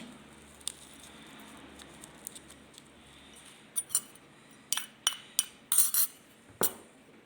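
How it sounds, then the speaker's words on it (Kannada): A spoon scoops coffee powder into a bowl, giving a string of short, soft scraping clicks and taps that grow more frequent toward the end over a quiet background. "ನಾನು ಫಸ್ಟಿಗೆ ಸ್ವಲ್ಪ ಕಾಫಿ ಪೌಡರ್ ಹಾಕ್ತಾಯಿದ್ದೀನಿ ಒಂದು ಬೌಲಿಗೆ"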